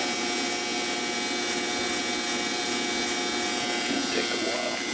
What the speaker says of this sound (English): We'll clean them with steel wool.